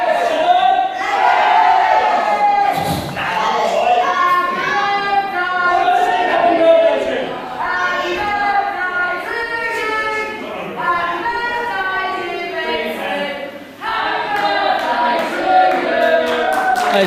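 A wrestling arena crowd sings together, loud and somewhat out of tune, in a sustained mass chant that fills the whole stretch with only brief dips.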